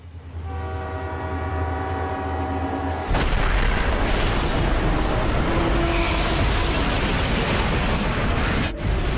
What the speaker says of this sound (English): The trains collide like 2 charging rams at a combined speed of nearly 200 kilometers per hour.